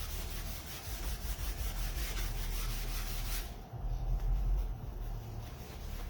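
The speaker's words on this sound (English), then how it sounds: "I'm going to rub it in and then rub it right off." Wax being rubbed by hand into a wooden cutting board, a steady close-up scrubbing and rubbing friction that continues without pause and without talk.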